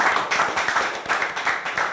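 An audience at a Korean job-startup TV show about a small moving company claps in a short, brisk round. The claps are quick and moderately close, with faint voices mixed in.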